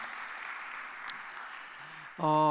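Audience applause at the close of a chapel sermon festival, a steady, fairly soft wash of clapping for about two seconds before a voice or tone cuts in at the end.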